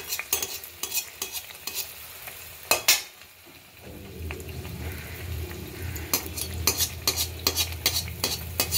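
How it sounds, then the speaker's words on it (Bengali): Malpua batter frying slowly in oil over a low flame, with a steady close bubbling sizzle broken by sharp clinks and scrapes of a utensil against the pan, and no talk. "দেখুন একটু ধৈর্য ধরে ভাজতে হবে, তবে প্রতিটা ফুলবে আর সুন্দর করে বুঝতে পারবেন ফুলে উঠেছে"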